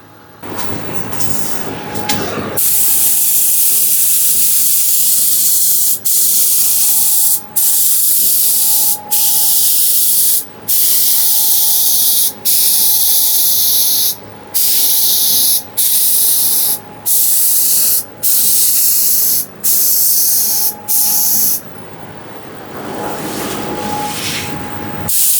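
A paint spray gun at high air pressure sprays green apple candy paint in a loud, steady hiss, broken by a string of short pauses between passes, each burst close and even.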